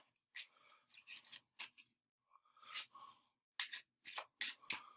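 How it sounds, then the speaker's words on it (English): Quick papery riffles and crisp flutters in short bursts with brief gaps, close and soft, like a deck of cards being shuffled. "We can shuffle them too a little bit."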